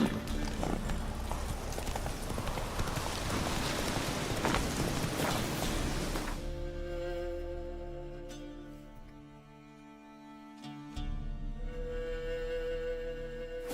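Roach, a horse in The Witcher 3, gallops with steady clip-clop hoofbeats for several seconds, then slows as the footfalls thin out under ambient game music.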